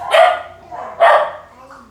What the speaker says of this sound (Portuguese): Minha cachorra.